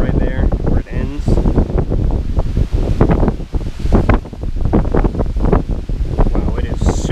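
Strong wind buffets the microphone at a mountain overlook at Caesars Head State Park on the Blue Ridge in northwestern South Carolina, roaring loud and steady throughout with gusty swells while a person speaks over it.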